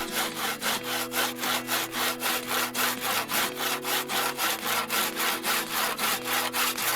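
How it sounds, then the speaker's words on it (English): A crosscut hand saw rasps through wood cutting notches in a steady back-and-forth rhythm, about three strokes per second, loud and close. "Now I can again take out my crosscut saw and start cutting the notches."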